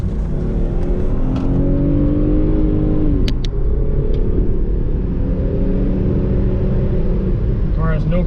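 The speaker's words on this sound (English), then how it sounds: "Car has no problem getting to 60 in a hurry" A 1995 Mitsubishi 3000GT accelerating hard on a test drive, a loud engine drone rising in pitch through the gears from inside the cabin, with a brief shift break midway and a voice near the end.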